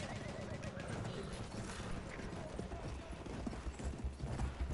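Horse galloping in a video game, hooves clip-clopping in rapid rhythm amid a busy mix that includes gunfire-like bursts.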